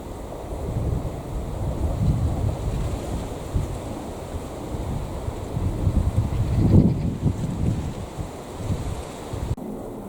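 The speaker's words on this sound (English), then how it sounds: "The wind is picking up again." Wind gusts through a kitchen garden, a steady low rumbling buffet against the microphone that swells and eases, with rustling in the background and no one talking.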